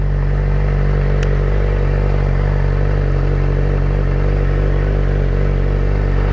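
A 600cc motorcycle idles while being backed up, its engine a steady loud low rumble with faint clatter, close by and continuous with no talking.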